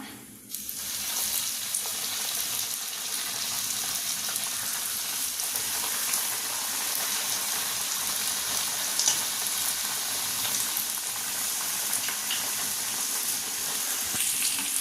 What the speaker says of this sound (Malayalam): എണ്ണ ചൂടായിട്ടുണ്ട് നമുക്കതിലേക്ക് ഇതിട്ട് കൊടുക്കാം